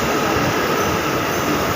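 A Delhi Metro train pulls into a station with a loud, dense roar and rushing wheel noise, heard up close on the platform.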